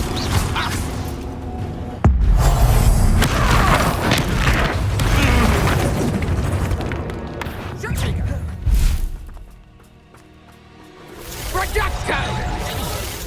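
Confringo blasting spell in Hogwarts Legacy during a duel, with a sharp booming explosion followed by crashing, whooshing combat effects. A player speaks over the loud, busy fight, which briefly drops away before building again.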